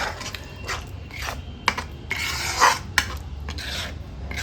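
Masala for an egg curry frying in a pan while being stirred, with scraping spoon strokes and clatter in bursts over a soft, steady sizzle.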